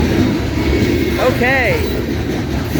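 A combined 200-car CSX loaded coal train rolls past at Morgan Station Road with a steady, loud rumble, and a brief metallic squeal rises midway. A person says a word over the noise.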